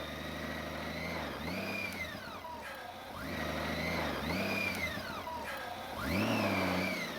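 A big Honda Goldwing motorcycle struggles in desert sand near Dubai, its engine revving loudly in three long rising and falling surges, each climbing in pitch and dropping back, close and continuous.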